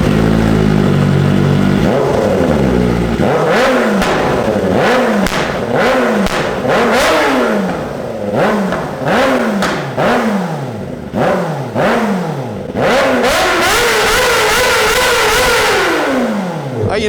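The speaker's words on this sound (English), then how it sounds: "now that the baffle's out, we have to redline it to the fucking moon" A Kawasaki ZX-4RR motorcycle with its exhaust baffle removed revs hard to redline again and again, each loud rising scream dropping back sharply in a quick repeated rhythm, close and with no talk.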